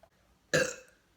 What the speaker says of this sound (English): That was a baby burp.